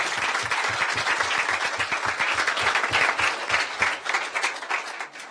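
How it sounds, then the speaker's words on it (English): An audience at a Board of Education meeting applauds teachers, with a full, steady round of clapping from many people that tapers off at the end. "If everybody could clap for them too."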